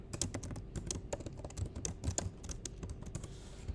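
Rapid clicking on a computer keyboard while code is being edited. The keystrokes come in quick, uneven bursts, close and fairly soft, with no voices.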